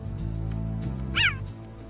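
A cheetah gives a single short, high, bird-like chirp, a bright rising-and-falling squeak standing out over a low steady rumble, heard alone without speech.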